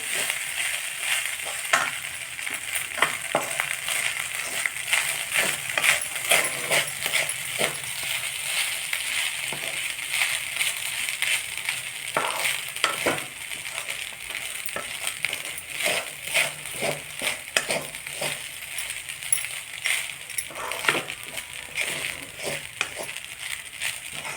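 Moringa leaves rice stirred in a hot pan, with steady frying sizzle broken by frequent sharp scrapes and clinks of a spoon against the pan, close and busy, with no talking.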